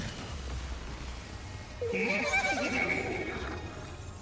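A horse whinnies in the video game Destiny 2, a clear, close neigh of about two seconds that rises and wavers over a steady low background hum.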